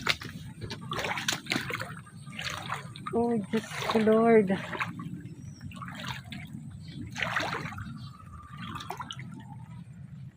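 Floodwater sloshes and trickles close by in a flooded neighborhood during ongoing rain, with small splashes and dribbles around wading movement while people talk and exclaim over it.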